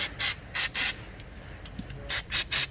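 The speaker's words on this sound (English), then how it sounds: "what we're going to do is spray" Aerosol can of mechanical oil sprayed in short hissing bursts onto the sticky throttle linkages of a classic car stored for two decades, three quick sprays then a pause and three more, close and fairly loud.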